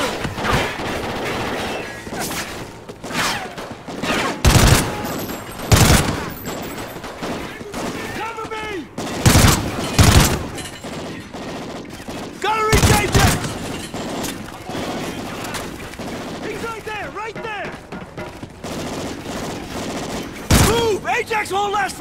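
Gunfire rattles through Call of Duty: Ghosts gameplay, loud irregular bursts and single cracks with sharp crashes and booms spread across the span, mixed with shouted voices and game sounds between volleys.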